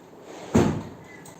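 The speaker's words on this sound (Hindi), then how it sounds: "दरवाजा खींच लो, खुला है घर का।" A house door is pulled shut with one dull thud, close by and fairly loud, leaving a short fading tail in a quiet room.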